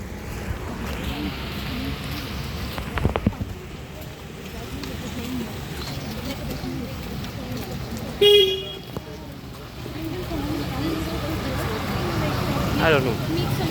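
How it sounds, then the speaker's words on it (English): A bus on the IIT Madras campus rolls past with a low engine rumble, and a short, loud horn toot sounds partway through. People talk over it. "This is the bus."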